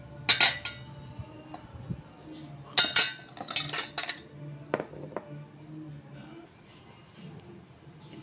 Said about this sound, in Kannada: ಸೊ ಇದಕ್ಕೆ ನಾನು ಐಸ್ ಕ್ಯೂಬನ್ನು ಸೇರಿಸ್ಕೊಳ್ತಾ ಇದ್ದೀನಿ.